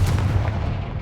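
A Confringo fire spell blast in the game Hogwarts Legacy, one dense, loud booming burst with a rumbling low end that fades within about a second.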